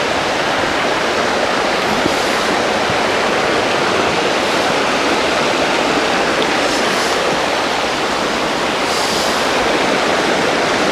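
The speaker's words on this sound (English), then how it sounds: "So that's the Avonmore and Avonbeg, little river." Continuous rushing water from a small river where the Avonmore and Avonbeg meet in Wicklow, a loud, close, unbroken broadband roar with no voices.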